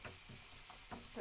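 Onions sautéing in a hot kadhai or pan, a soft continuous sizzle with a few faint stirring scrapes, quiet and brief.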